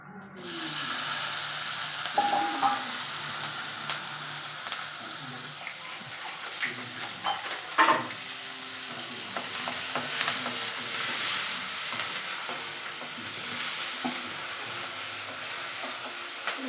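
Green chillies crackle in hot tempering oil for ridge gourd chutney, with a steady sizzle and scattered spoon scrapes and stirring knocks up close over many seconds.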